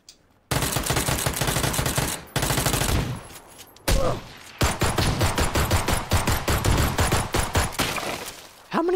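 Rapid automatic gunfire in PlayerUnknown's Battlegrounds, loud and close, with several sustained bursts broken by short pauses and a few separate single shots near the end.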